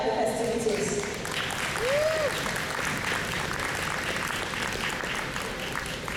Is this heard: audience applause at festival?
yes